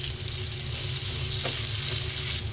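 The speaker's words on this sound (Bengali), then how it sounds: "আমার একটু গরু মাংস ভাজতেছি, ইলিশ মাছটা ভাজা" Hilsa fish and beef fry together in a hot pan, giving a loud, steady sizzle and crackle with occasional stirring scrapes throughout, close up and without any talking.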